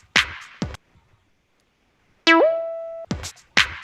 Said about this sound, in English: And a nice reverb already, you know, the loop has reverb.